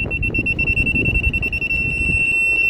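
An aftermarket VEGA VGS24 car parking sensor beeps a steady high electronic tone continuously and rapidly, close by, over low rumbling background noise.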